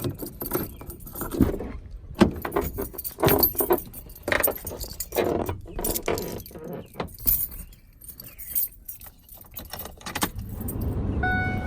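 Keys jangle and clink repeatedly up close while a diesel truck with faulty glow plugs is being started, bursts of metallic rattling with mechanical thumps and handling noise, no speech.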